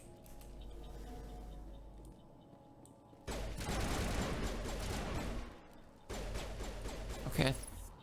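Gunfire in the Mass Effect 1 video game: bursts of rapid shots in two dense stretches, loud and close, with a quieter lull between them.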